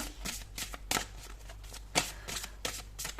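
Tarot cards are shuffled close by in quick, crisp riffling bursts separated by short pauses, quiet and with no talking.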